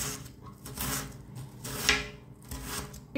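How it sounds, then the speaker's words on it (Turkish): A knife finely chopping onion for manti on a board, with quick, soft, irregular taps and scraping strokes, close and fairly quiet, and no talking. "soğanı olabildiğince arkadaşlar ince doğranacak."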